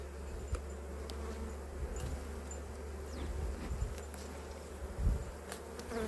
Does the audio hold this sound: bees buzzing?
yes